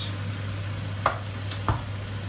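Lamb shank karahi curry stirred in a pan, a quiet steady sizzle under a low hum with two distinct spoon scrapes about half a second apart, close, no talking.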